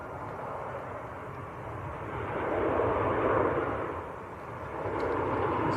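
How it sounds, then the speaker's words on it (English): A Ryanair airliner on short final into Manchester airport, its engines a steady broad roar that swells midway and again near the end, moderately distant with no voices. "Ryanair on short finals and Ryanair waiting to line up"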